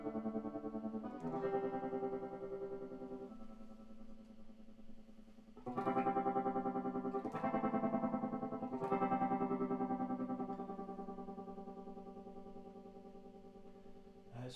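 Electric guitar chords pulsing through a tremolo effect, the volume swelling and dipping rhythmically as each strummed chord rings out, with a few fresh strums.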